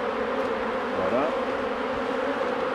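Honey bees buzz in a dense, steady drone as brood frames from a Mini Plus hive are shaken out, the swarm noise close and continuous with a brief dip in pitch midway.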